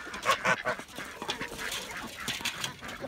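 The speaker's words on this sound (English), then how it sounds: "aren't they beautiful? I love those geese." A flock of farmyard geese honks and squawks in overlapping bursts at close range, busy and continuous, with a slight background of other poultry sounds.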